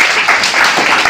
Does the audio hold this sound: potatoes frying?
no